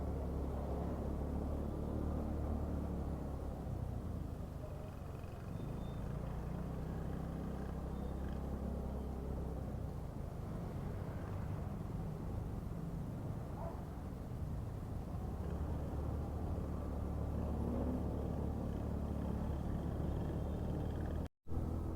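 Steady road traffic rumble and engine drone from a Kymco Super 8 scooter ride on a congested road, continuous wind and motor noise throughout, ending with a sharp brief dropout.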